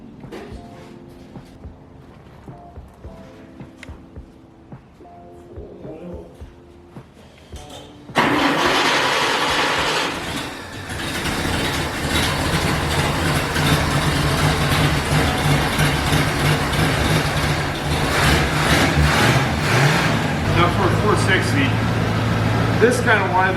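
A 1960s Chevy muscle car big-block engine cranking and firing, then roaring into a loud, rough idle with revs. Quiet clicks and scattered sounds come first, and people talk around it.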